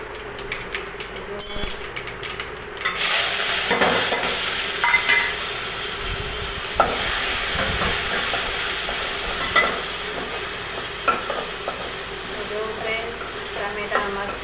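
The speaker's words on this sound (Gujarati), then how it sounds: "તેલ તપી ગયું છે તો રાઈ, જીરું, મેથી, લવિંગ, મરી નાખી દીધું છે" Mustard seeds, cumin, fenugreek, cloves and black pepper hit hot oil with a sudden loud hissing sizzle that then holds steady and close, with popping crackles and stirring, a voice briefly heard at the start.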